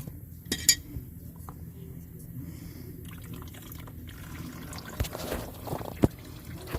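Hot oil drains from a warm Kohler engine on a Bad Boy ZT Elite 7000 zero-turn mower into a catch pan, a steady trickling pour with a few sharp metallic clanks.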